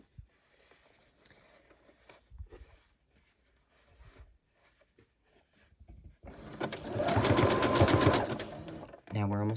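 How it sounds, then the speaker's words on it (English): Quiet talk and soft handling noises give way to a loud, rapid mechanical whirr of a sewing machine stitching down the middle of ruffle fabric, running steadily near the end. "And I'm sewing down the middle, if at all possible."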